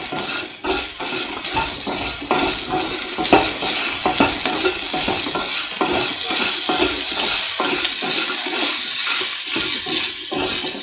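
Ginger potato stew is stirred as it fries and sizzles in a pan, with a continuous loud hiss and repeated scraping strokes of the spoon against the metal.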